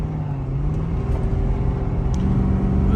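A 2022 Ford F350 pickup truck accelerating at half throttle, its engine giving a steady, loud, low rumble that rises slightly in pitch, heard from inside the cab without talking.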